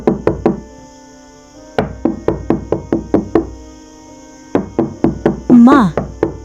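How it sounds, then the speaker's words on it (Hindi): Sharp wooden knocks on a door in a Hindi cartoon story, loud and close, coming in quick bursts of three or four raps separated by pauses, with a brief squeaky effect near the end. "दरवाजे पर दस्तक होती है"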